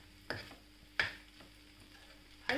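A spoon stirs fried potatoes into sabudana khichdi cooked in ghee, three distinct scraping knocks against the pan spaced apart, quiet and close with a soft sizzle between them.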